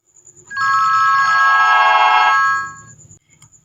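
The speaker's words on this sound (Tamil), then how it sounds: "என்னது, திரும்பவும் ஃபோன் வருது." A telephone rings loudly and close by with a bright, sustained electronic ringtone that lasts about two seconds and then stops, leaving faint background murmur.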